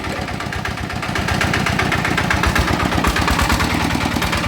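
Small diesel engine running after a gear replacement, revved up into a steady, loud mechanical clatter with fast rhythmic knocking, close by and with no talk over it.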